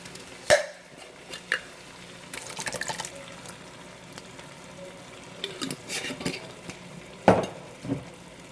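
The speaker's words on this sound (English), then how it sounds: "now we're going to put in our sauce" Thick Classico Italian sausage pasta sauce plops and glugs from a jar into a pot, with scattered wet splats, a few sharp knocks and gurgling bursts spread over quiet pauses.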